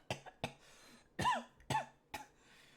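A voice imitates a sputtering, choking cough: five sharp bursts spread over about three seconds, the middle two longer and more strained, heard alone without speech.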